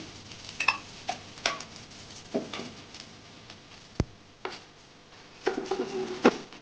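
A little oil sizzles in a pan while prawns cook, a soft steady hiss broken by sharp stirring clicks and knocks of a spoon, close and fairly quiet.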